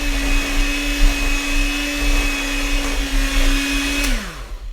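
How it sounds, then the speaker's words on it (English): An electric mixer beats chocolate cake batter with a loud, steady motor whine and a constant hum, close by, then the pitch drops as it winds down near the end. "we're going to have to do it some by hand and some by the electric mixer"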